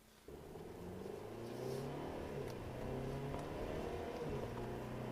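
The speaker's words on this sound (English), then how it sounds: "See, the car has plenty of pickup." A 2015 Mercedes C300 engine revs up and accelerates hard to 55 mph, rising in pitch through several gear changes, heard from inside the car.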